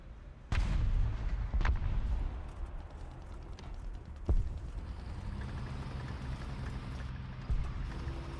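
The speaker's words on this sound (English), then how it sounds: "Of course, the rocket fucking explodes in a fucking bush." Explosions and heavy booms from a War Thunder battle: a rocket blasts into a bush, with sharp loud impacts near the start and mid-clip over a continuous low rumble of engine and battlefield noise.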